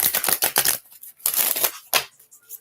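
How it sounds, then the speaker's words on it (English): Oracle cards shuffled by hand, close crisp riffling bursts in several quick flurries separated by short pauses, with no talking. "One more shuffle."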